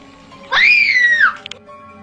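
A little girl screams in fright, one loud, high, sustained shriek of about a second that rises and then falls away, followed by a couple of faint clicks against a quiet background.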